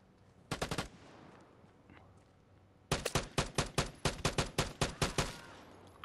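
Two bursts of automatic gunfire in the PS5 shooter Vigor: a short volley of four rapid shots, a pause, then a longer sustained string of about a dozen sharp, loud, evenly spaced shots, with no talking.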